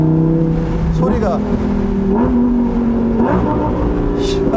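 A Lamborghini Huracán EVO V10 revs hard in Corsa mode, loud and close, its pitch climbing in three stepped surges as the engine pulls through the range, with a sharp crackle at each shift.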